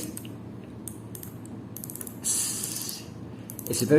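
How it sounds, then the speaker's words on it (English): Ratcheting unidirectional bezel of a Tevise T-801 quartz Submariner-style dive watch being turned, giving a quick run of small close clicks followed by a denser burst of ratchet clicks, crisp and nearby with no talking. "The ratcheting is, again, one of the best I've used and felt on a budget watch"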